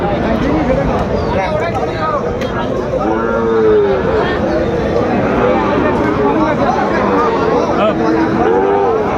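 Sahiwal-breed bull calves moo repeatedly at a busy cattle market in Dinajpur, their drawn-out calls rising over a steady crowd hubbub and chatter.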